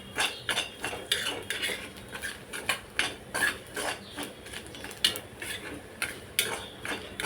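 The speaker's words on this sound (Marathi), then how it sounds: "ते आता आपण ह्याच्यामध्ये मिक्स करूया. ते खोबऱ्यासोबत भाजून घेऊया." Nutmeg and poppy seeds roasting with coconut for a no-onion, no-garlic masala paste, stirred with a spoon that scrapes and clicks rhythmically against the pan in quick repeated strokes over a faint dry sizzle.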